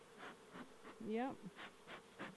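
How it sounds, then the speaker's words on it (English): Honeybees buzz around an open hive in Alaska, their faint hum coming in short swells, while people talk quietly nearby. "You can just hear them buzzing all around."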